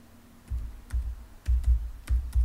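Keys struck on a computer keyboard in short irregular bursts of a few clacks each, fairly close and moderately loud, with no voices over them.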